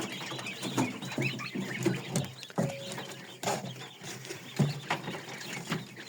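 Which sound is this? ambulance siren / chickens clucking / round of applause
chickens clucking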